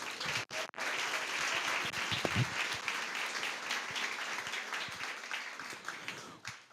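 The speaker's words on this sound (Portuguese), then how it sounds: "Por favor, palmas para a Carla." Audience applause at a literary festival in Brazil, a dense sustained burst of clapping from a seated crowd that swells after a brief gap and carries on steadily, fairly distant and even, with no talk over it.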